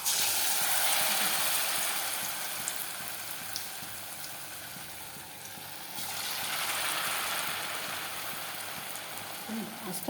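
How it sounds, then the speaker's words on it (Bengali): Food fries in hot oil in a pan, a dense hissing sizzle that swells, dips briefly and then rises again, close and continuous, with faint background sounds. "একবার দিয়ে দিলাম, ভাজা হচ্ছে"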